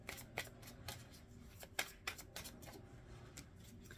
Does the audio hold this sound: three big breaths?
no